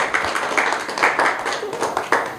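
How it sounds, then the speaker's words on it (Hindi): Scattered village crowd clapping to welcome a gold-medal national wrestling champion, fairly close with individual claps distinct and unsynchronized, rising and falling in short bursts. "एक बार तालियों से गुड़िया का स्वागत कर दीजिए"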